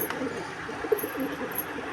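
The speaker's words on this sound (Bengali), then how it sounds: "এই খোপটায় আরেক জোড়া পায়রা ডিম নিয়ে বসে আছে" Pigeons coo softly in their coops where pairs sit on eggs, producing brief, faint murmuring calls close by against a quiet background.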